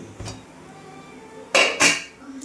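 A metal lid is lifted off an idli steamer pot, giving two quick clanks of metal against metal, close and fairly loud, over a faint background hum.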